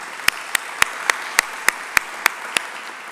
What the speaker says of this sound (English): a round of appreciation, a round of applause to say thank you as well